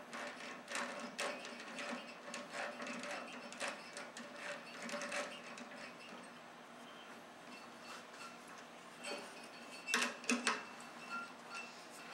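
A woodturning lathe's dovetail chuck is tightened at all four holes with a key, giving a steady run of close, clicking, ratcheting metal sounds for about twelve seconds with a sharper cluster of clicks near the end.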